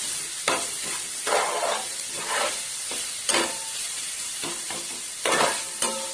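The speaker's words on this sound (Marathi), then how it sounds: "आता आपण हा कांदा आणि कढीपत्ता घालूया. आता हे फ्राय करून घेते 5 मिनिटं व्यवस्थित" Onion and curry leaves frying in hot oil for a Marathi potato bhaji, giving a steady close sizzle broken by repeated stirring scrapes and soft clatters over about six seconds.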